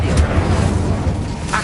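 A fire spell cast in Hogwarts Legacy on PS5, giving a short rumbling whoosh of flame with low booming energy and a brief crackle at the end, surrounded by dense game combat noise.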